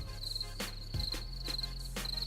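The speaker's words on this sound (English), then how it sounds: "You hear them crickets?" Crickets chirp in a steady, repeating high-pitched trill, close and continuous over a low hum, with a few soft thumps and no talking.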